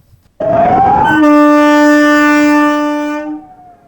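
An Amrit Bharat Express train departing Jasidih station sounds a loud, sustained horn with a rising onset, holding steady for about three seconds before fading.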